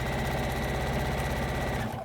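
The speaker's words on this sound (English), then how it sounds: "once you get everything positioned where you want, you just start sewing" A sewing machine stitches quilt binding with a rapid, steady mechanical chatter up close, running continuously for a couple of seconds before stopping abruptly.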